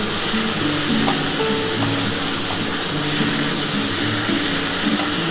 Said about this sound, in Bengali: বন্ধুরা দেখো, সর্ষে বাটাটার সাথে একটু ভালো করে কষিয়ে নিতে হবে।